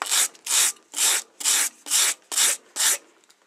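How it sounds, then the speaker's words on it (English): Stiff file card bristles scraped across a metal file in a knife-making shop, seven even rasping strokes in a steady back-and-forth rhythm, close and crisp with short silences between. "you set your file card down and you run your bristles, file across those bristles"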